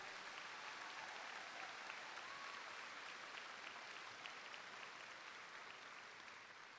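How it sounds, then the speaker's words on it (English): A crowd applauding the teachers at a 2021 high school graduation, with sustained dense clapping that stays even throughout, fairly distant and faint in a large venue, with no voices over it. "let's give a big round of applause to the teachers"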